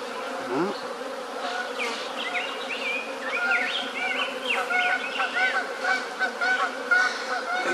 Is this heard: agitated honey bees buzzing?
yes